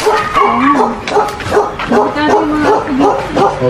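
A dog barks and yips repeatedly in short, excited bursts, close by, with a few whimpering tones mixed in.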